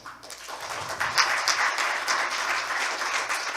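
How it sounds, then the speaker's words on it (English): Audience applause at an international criminology and justice forum, a dense burst of many hands clapping that swells after a second and stays steady, with no talk over it. "Please give a welcome applause."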